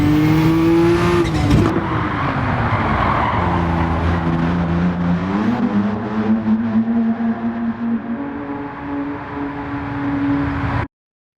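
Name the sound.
Lamborghini Countach QVX racing engine, video game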